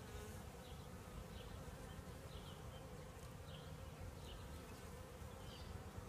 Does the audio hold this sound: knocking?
no